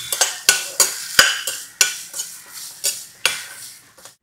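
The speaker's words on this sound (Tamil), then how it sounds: "தேங்காவை போட்டுக்கணும். ரெண்டையும் சேர்த்து வறுத்துக்கணும்." Grated coconut and rice are stir-roasted together in a pan, heard as a rhythmic scraping of a metal spatula against the pan, roughly once every half second, close up, with a soft dry sizzle and no talking.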